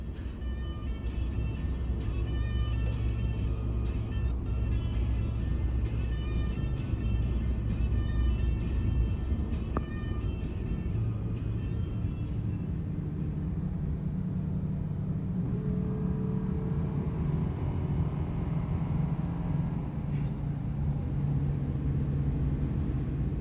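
A truck drives through deep snow in an avalanche zone near Lake Tahoe, with a steady, loud engine rumble and road noise continuing throughout, no talk heard.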